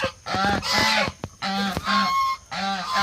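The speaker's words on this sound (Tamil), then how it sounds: "நம்ம ஃப்ரெண்டோட தோட்டத்தில் விட்டுருக்கேன் கூஸ் வாத் ரெண்டு அப்புறம் மணிலா" Geese kept in a friend's garden honk loudly and close by, several rapid nasal calls in three bursts separated by short pauses.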